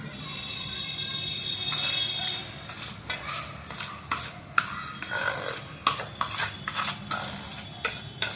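Ragi and moong laddoo mixture being mixed with warm ghee, a string of scraping, rasping strokes of a utensil against the pan, irregular and close, with no talking.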